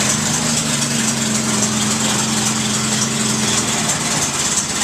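A 1921 Paige car engine idles steadily after starting, with a loud, even, low mechanical rumble throughout and no voices.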